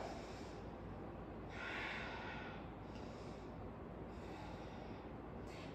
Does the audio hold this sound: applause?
no